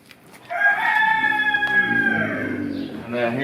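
A rooster crows loud and close in one long drawn-out call among farm animals, a second call starting near the end.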